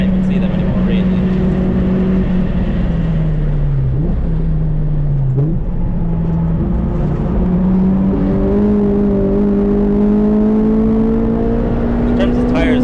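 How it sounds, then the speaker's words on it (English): A Honda Civic EP3 Type R accelerates flat out on the Castle Combe circuit, its engine drone heard loud from inside the car and climbing steadily in pitch through the gears. "I'm literally pedal to the metal, literally flooring it"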